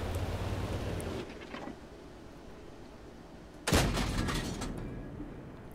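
A tank's main gun firing in World of Tanks, a single heavy boom midway through after a quiet rumbling lull, its loud crack decaying into a rolling tail over steady background noise, with no talk.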